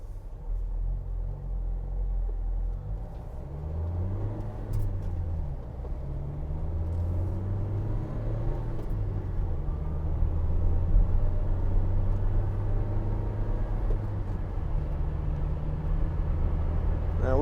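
Steady low engine drone and road rumble inside a 2016 Vauxhall Vivaro 1.6 CDTi ecoFLEX van on the move, continuous and fairly loud, swelling slightly partway through, with no talking.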